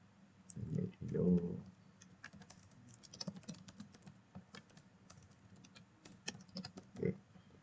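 Typing a program on a computer keyboard, with soft clicks pattering through most of the clip, broken by a few louder bursts near the start and end and quiet talk mixed in.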